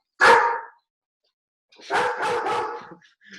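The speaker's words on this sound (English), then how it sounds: "We got my dog barking." A nearby dog gives one sharp bark, then after a pause a rough run of several barks in quick succession.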